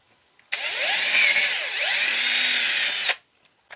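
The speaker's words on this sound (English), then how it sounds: "So it's very easy just to get a drill bit." Power drill bit boring out the center hole of a 1/6 scale Willys MB model wheel rim, a loud steady whine with pitch sweeps lasting about two and a half seconds, starting and stopping abruptly, alone without talk.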